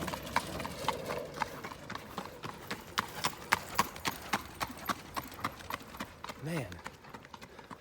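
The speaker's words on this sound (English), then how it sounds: "Oh man, this horse is hauling ass." A horse gallops uphill on an outdoor trail, its hooves clip-clopping in a quick, steady rhythm close by while someone talks over the beat.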